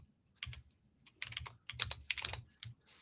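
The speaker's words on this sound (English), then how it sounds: "Remember typing in Bash?" Keys clatter on a computer keyboard in quick irregular bursts of close, crisp keystrokes as someone types commands into a terminal, with no voices.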